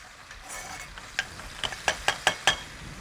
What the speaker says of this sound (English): I'll get a spoon and I'll just kind of stir this up